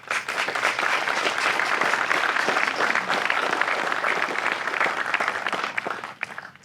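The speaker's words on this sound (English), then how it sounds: "Let's give them a round of applause." A crowd at an outdoor park renaming ceremony gives sustained, full applause, many hands clapping steadily at even volume before it fades out at the end.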